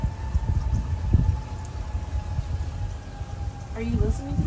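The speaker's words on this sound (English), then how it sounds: "the sirens on Kyle Field, the lightning sirens." Lightning warning sirens sound across Kyle Field on a stormy night, a faint sustained wail drifting through the air under wind and low rumble, with a rising and falling tone near the end.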